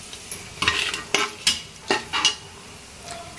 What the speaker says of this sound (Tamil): ஸ்பைசஸ்லாம் வந்து நல்லா வதங்கிருச்சு